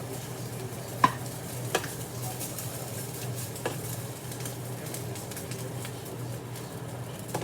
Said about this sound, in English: Now I'm just mixing up the noodles a little bit.